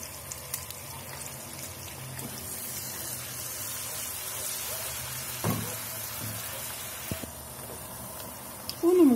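Flour being dry-roasted in a pan for Turkish un helvası gives off a soft, steady sizzle and scraping hiss, faint and continuous, with a few clinks from stirring.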